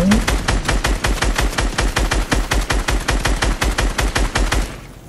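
Rapid automatic gunfire in Fortnite, a loud, steady burst of evenly spaced shots lasting several seconds before cutting off abruptly.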